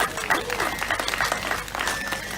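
A brief burst of applause from a crowd, steady clapping of many hands throughout.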